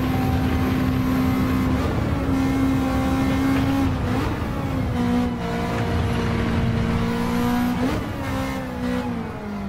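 Race car engine in Gran Turismo 7 revs hard and climbs steadily through the gears, pitch rising between shifts with brief dips at each change, loud and continuous with no talk over it.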